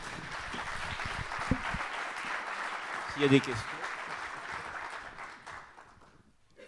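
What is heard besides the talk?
audience applause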